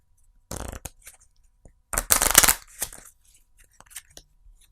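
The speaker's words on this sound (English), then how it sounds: "I'm going to shuffle this up" Cards shuffled at close range in a few quick, crisp riffling bursts, with short rustles and taps between them and no talking.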